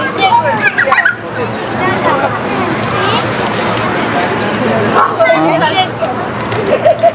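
A dog barks in short bursts close by at a busy outdoor tourist spot on Sentosa Island, Singapore, with people chattering and talking over a steady crowd hubbub.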